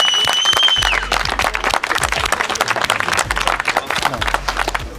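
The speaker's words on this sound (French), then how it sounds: "On les applaudit très fort." A crowd at a KO fight event applauds the fighters after the bout, dense loud clapping filling the whole stretch with some scattered cheers and a voice over it early on.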